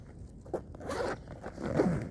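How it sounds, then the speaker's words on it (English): A clothing zipper being pulled up during a winter outdoor outing, with two or three quick rasping zip strokes close to the listener. "Did I zip it up right?"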